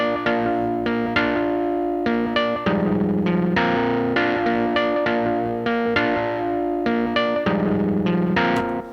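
A Sculpture physical-modeling synth in Logic played through an amp and pedal board gives sustained, distorted chordal tones with chorus and echo, shifting between held chords in a steady, loud, continuous pattern without any voices.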